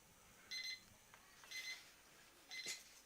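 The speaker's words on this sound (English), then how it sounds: "There goes Robbie's alarm" An electronic alarm at an outdoor lawn bowls championship sounds three short bursts of beeping about a second apart, fairly faint over quiet background.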